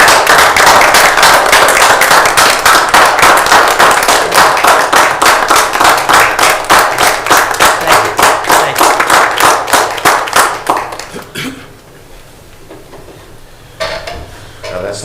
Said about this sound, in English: a round of applause for Commissioner Ron Young.